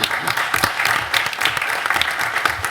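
Audience applauding at a board meeting, a steady burst of many hands clapping close by for a few seconds, with a faint voice underneath.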